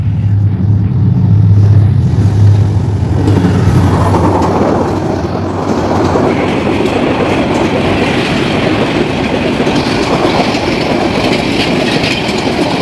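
Rangpur Express, an intercity train in Bangladesh, passing near the Shalna overpass: a loud, continuous roar of wheels and cars rolling by close up, with steady rumble and rattle throughout.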